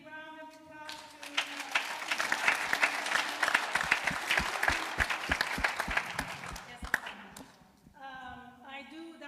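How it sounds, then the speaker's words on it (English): An audience at a mayoral candidate forum breaks into a round of applause, a dense burst of clapping lasting several seconds, with a voice speaking briefly before it and again as it fades. "Let's give a big round of applause to"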